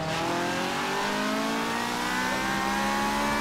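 A BMW race car engine in a racing video game, a loud continuous high-revving drone with rising pitch, close and steady throughout, with no talk.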